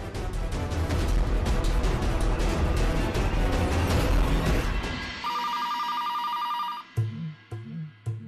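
A telephone rings with a steady electronic ringtone and repeated chirping tones during a call. Loud, broad noise comes first, and a few sharp knocks follow at the end. No one speaks.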